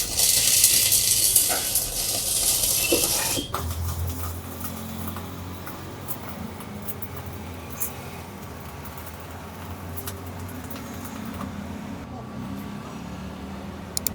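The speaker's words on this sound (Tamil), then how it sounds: "இப்போ 4M ராடு வெல்டு பண்ணுறாங்க." GB Kore Arc 400 HD industrial welding machine set to 180 amps arc welding with a 4 mm rod, a loud crackling hiss at first that drops to a steadier sizzle, with someone talking over it.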